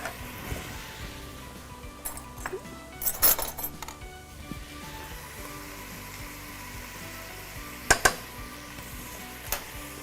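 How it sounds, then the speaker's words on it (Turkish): Steady sizzling of meat frying in sunflower oil in a pot, with occasional scraping stirs and a few sharp metallic clinks, close by. "Etimiz burada pişiyor."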